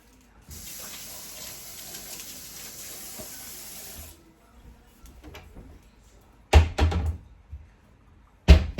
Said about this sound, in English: Got my bowl, gonna rinse it out really quick